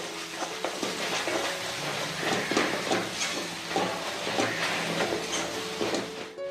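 Spiced egg bhurji masala sizzles steadily in a hot pan while a spoon stirs it, with a continuous frying hiss and soft scraping scrapes throughout.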